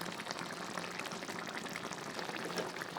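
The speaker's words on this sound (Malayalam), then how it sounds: "വെള്ളം ഒന്ന് ഒരു മീഡിയം ഫ്ലെയിമിൽ വെച്ചിട്ട് വറ്റിച്ചെടുക്കാം" A sardine curry simmers uncovered on a medium flame to reduce its water, a quiet, steady bubbling and gurgling hiss that continues evenly throughout.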